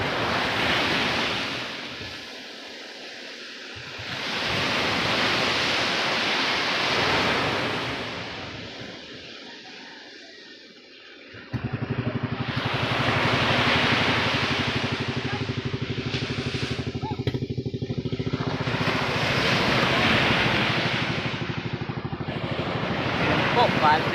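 Waves surge and break around a fishing boat on a choppy sea, washing in loud recurring swells with strong wind buffeting the microphone throughout.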